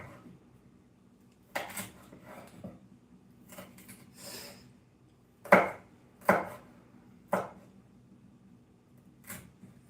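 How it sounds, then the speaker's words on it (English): A knife cutting chicken into strips on a cutting board, several sharp, separate chopping knocks at an irregular pace amid quiet kitchen clatter, with no talking. "I'm just going to cut this into strips."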